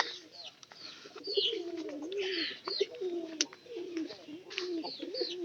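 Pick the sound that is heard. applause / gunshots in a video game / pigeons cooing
pigeons cooing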